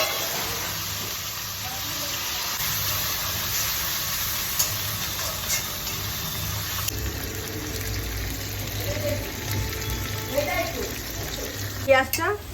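Onion dropped into hot oil already tempered with two chillies and cumin seeds, a steady close sizzle and frying hiss running throughout, with light stirring clinks and a louder scrape near the end.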